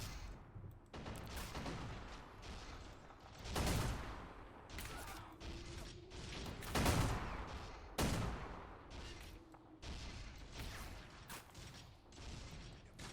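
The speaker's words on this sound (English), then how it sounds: "Oh, explosion." Explosions and gunfire in the war strategy game Men of War: Assault Squad, with repeated loud blasts and bursts of shots spread over a continuous battle din, no talking.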